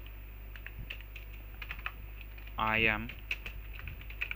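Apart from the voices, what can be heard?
typing code on a computer keyboard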